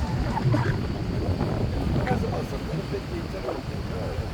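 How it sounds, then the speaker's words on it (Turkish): Private and tour boats on the turquoise sea near Fethiye's islands, a steady engine drone and water wash with wind buffeting the microphone, continuous throughout. "Özel tekneler, tur tekneleri."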